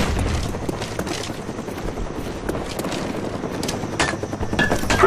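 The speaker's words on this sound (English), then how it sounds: "Napalm strike coming in hot." Napalm strike explosions in Call of Duty: Black Ops on the Berlin Wall map, a steady rumbling barrage of booms and crackling gunfire that swells louder toward the end, with no talk.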